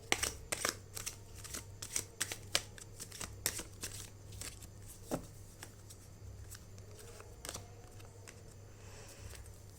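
Tarot cards shuffled and drawn during a Hindi tarot reading, giving repeated crisp papery snaps and riffles up close, busiest early and thinning later, heard alone over a low steady hum.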